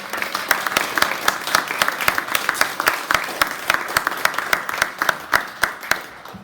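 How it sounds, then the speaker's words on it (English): Audience at a summer camp closing reading applauds the campers' work, moderately close rhythmic clapping from a modest group, steady throughout and thinning slightly near the end. "Can we just give one more round of applause for all of the amazing work?"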